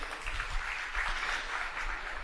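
Audience at a university event clapping in a brief burst of applause, a fairly faint, dense patter of many hands.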